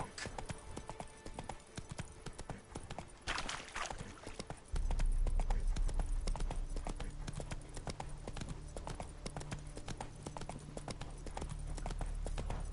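Horse hooves clip-clop at a gallop in The Witcher 3: Wild Hunt, a steady rapid rhythm under game ambience that grows louder and fuller partway through, with no talk.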